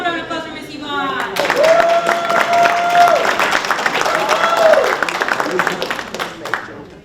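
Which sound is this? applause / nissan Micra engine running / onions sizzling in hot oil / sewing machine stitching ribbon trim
applause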